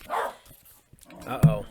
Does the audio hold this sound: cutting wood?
no